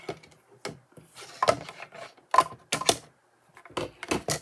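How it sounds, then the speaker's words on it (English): Scissors cutting small pieces of paper for a handmade card, giving a run of short crisp snips and rustles in irregular bursts, close up with no voices. "So I'm going to cut out some little pieces here."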